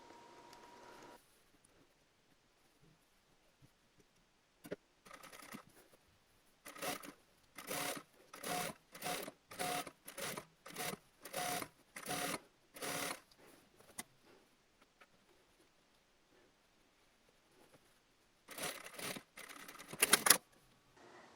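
A sewing machine stitches dress fabric in a string of short, even bursts of rapid needle chatter separated by pauses, quiet and close, with a final cluster of stitching at the end.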